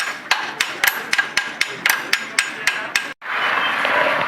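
A new rear tyre goes onto a Yamaha FZS-V3 motorcycle as it is tapped into place with about a dozen sharp, evenly spaced hammer knocks, loud and close. A brief gap follows, then a steady rushing hiss.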